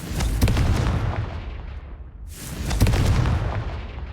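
A Confringo fire spell exploding in the video game Hogwarts Legacy, two rumbling booms with crackling bursts, the first fading before a second blast swells, heavy and close.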